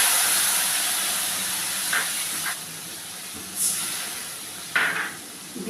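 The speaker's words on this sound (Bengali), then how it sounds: "নুন হলুদের কাঁচা গন্ধটা চলে যাওয়া পর্যন্ত আমি একটু কষিয়ে নেব" Salt, turmeric and chili powder mixed with water into a paste, hissing and sizzling steadily in a hot pan for a Bengali pabda fish dish, with a few louder bursts of spattering and clinks.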